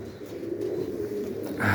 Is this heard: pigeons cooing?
yes